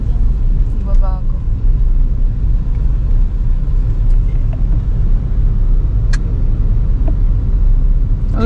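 Dense, heavy road traffic in Bulacan makes a constant loud low rumble of idling and crawling engines, with a brief horn-like tone early on and occasional sharp clicks over the continuous drone.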